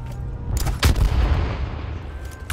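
Gunfire in the H1Z1 Battle Royale video game, a few sharp shots with heavy low boom and rumble, one strong blast near the start and another at the end, no talking.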